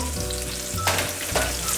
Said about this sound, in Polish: ta cebulka będzie mi pięknie się smażyć